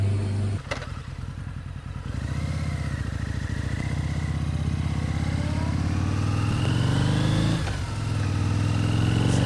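A Harley-Davidson V-Rod with handlebar shake after its neck bolts were tightened, heard close up on a test ride, its engine droning steadily and rising in pitch as it accelerates, with brief clatter at the start.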